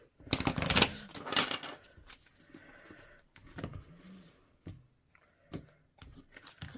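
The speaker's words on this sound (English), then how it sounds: "Do the old 5-pile shuffle here." A tarot deck is shuffled by hand in a five-pile shuffle, giving quick papery riffles and card slaps that come in short bursts with pauses between them, close and fairly soft.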